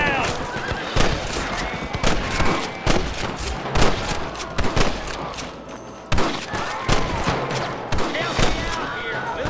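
Rapid gunfire in the western video game Red Dead Redemption, a loud fusillade of repeated shots in irregular bursts, mixed with horse whinnies and shouted voices.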